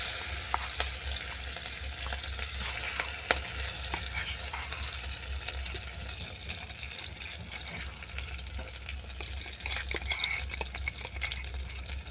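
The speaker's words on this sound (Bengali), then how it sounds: "এই কালো জিরের সঙ্গে শাপলা বাটাটা ভালো করে কষিয়ে নিচ্ছি" Water lily paste frying with black cumin in hot oil, a steady close sizzle with occasional stirring scrapes running throughout, no voices.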